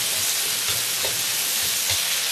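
Chili sauce stir-frying in hot oil gives a steady, close sizzle with soft scraping stirs, continuous and fairly loud throughout, with no talking.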